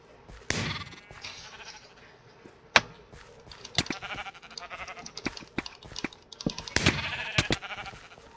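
Sheep bleat in the Sheep Quest 2 video game, with several short bleats mixed among sharp game sound effects and clicks, fairly close and with no talking.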